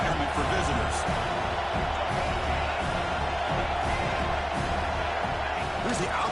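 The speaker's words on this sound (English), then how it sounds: "Listen to the crowd energy here in the early going." A Cowboys football game fills the stadium with a dense, continuous crowd roar early in the contest, and a commentator talks steadily over it.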